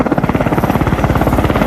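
A helicopter's rotor thumps in a fast, loud, steady beat close by, with the engine's whine running underneath and no other sounds.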